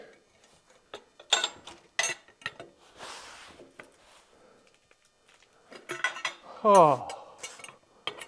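A metal wrench clanks and clicks against a backhoe's hydraulic stick cylinder during a repair, giving scattered sharp metallic knocks and a ratcheting burst, with a brief exclamation from a person.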